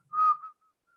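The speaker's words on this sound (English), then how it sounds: "Just one whistle." A single clear whistled note, held steady for a moment and then trailing off into silence, close and fairly loud with no talking.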